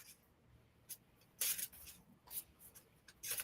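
Tarot cards being shuffled by hand: soft, close, quiet bursts of papery riffling and rubbing, a few short brushes spread unevenly across a near-silent background.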